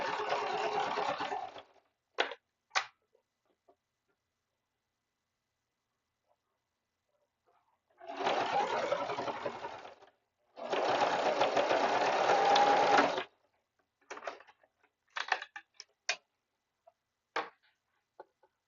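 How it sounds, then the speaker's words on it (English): Sewing machine stitching pockets shut through stiff, interfaced fabric, running in two long bursts with short starts and stops between them, close and steady with no talking. "sew these pockets shut just because like a lot of fabric to push out of the way to get to it"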